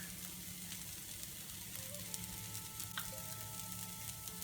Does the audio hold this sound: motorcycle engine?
no